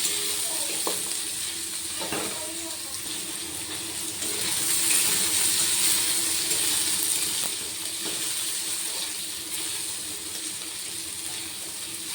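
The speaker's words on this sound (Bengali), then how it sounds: "এগুলো একটু ভাজা ভাজা করব।" Potato, carrot and bitter gourd fry together in a pan with a continuous close hiss and sizzle that swells slightly midway, with occasional faint stirring clicks.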